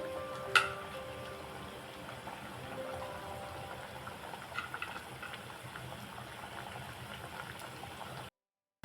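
Onion tikki bhajiya frying in oil in a kadai, a soft, continuous bubbling and gurgling that stays faint and even throughout, with one brief click near the start and no voices.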